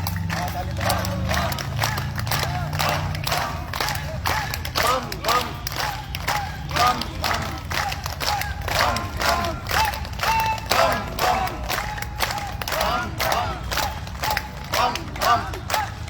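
A group of people at a disciplined yoga session claps in a steady, rapid rhythm throughout, a dense crowd sound with voices mixed in underneath.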